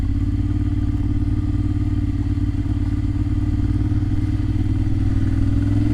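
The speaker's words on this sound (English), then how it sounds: "This is Noise's exhaust." A Ducati 696 motorcycle engine idles and rumbles steadily up close, a constant low throbbing exhaust note throughout.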